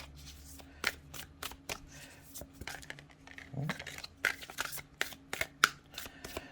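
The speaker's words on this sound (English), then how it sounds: "Let's see how well we can shuffle these" Stiff oracle cards from an Earth, Moon and Shadow deck being shuffled by hand, a run of crisp, irregular slaps and riffling flutters close up, with no talk over them.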